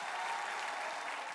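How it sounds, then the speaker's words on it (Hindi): Sustained applause from a talent show audience on the India's Got Talent stage, a dense, steady wash of clapping filling the whole moment without pause. "एक बार जोरदार तालियां हो जाए"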